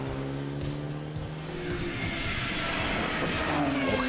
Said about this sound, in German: Da stimmt auch der Motorsound bei dem BMW.